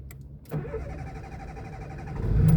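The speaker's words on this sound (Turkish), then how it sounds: "Aracı LPG'de bıraktığım için biraz geç aldı." A Tofaş car with a carburetor, running on LPG, starts after a click; the engine catches a little late and settles into a steady mid-pitched idle that swells louder toward the end.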